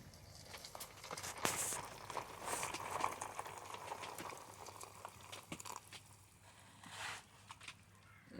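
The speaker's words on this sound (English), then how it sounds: "Here is where we put our water in. So we boiled some water." Boiled water pours into a dehydrated pasta bolognese food pouch, a steady close splashing and bubbling stream that runs for several seconds with a few soft knocks and no talk.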